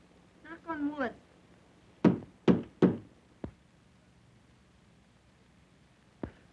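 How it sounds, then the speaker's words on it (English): Three sharp knocks on wood land close together, followed by two fainter single taps, after someone briefly speaks; the room is otherwise quiet. "Knock on wood."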